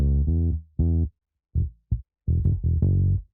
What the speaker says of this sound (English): So I've got quite a busy bass line, and it sounds like this at the minute.